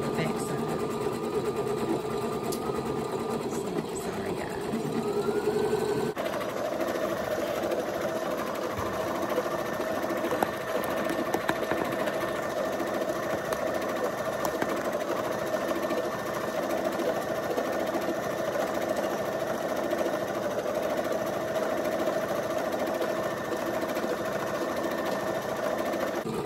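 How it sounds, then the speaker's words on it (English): A serger sewing machine runs steadily for a long stretch, a close, constant mechanical whir with a brief change in tone early on, while a person talks over it. "go ahead and go to my serger, my sewing machine"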